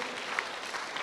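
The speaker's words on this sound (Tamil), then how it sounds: "ஜோரா கைத்தட்டுன்னு பார்க்கலாம்" A church congregation at St. Theresa of Child Jesus Church bursts into dense, loud applause, a brief continuous wash of clapping from many hands.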